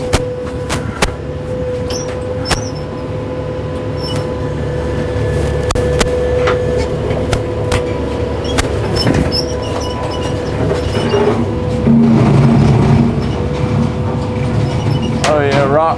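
A 72-inch Wicked brush cutter running behind a tractor grinds over brush and rocks, a steady loud mechanical drone with scattered knocks and clanks, under intermittent nearby talking.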